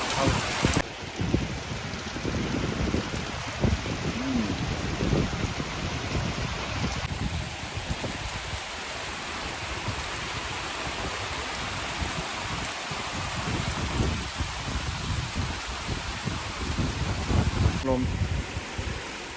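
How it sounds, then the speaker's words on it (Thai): Steady rain pours down outdoors near a river, a dense continuous hiss on surfaces that runs the whole length, with a voice talking intermittently over it. "มาปุ๊บฝนตกเลยใช่ไหมวันนี้ มีฝนตกครับ"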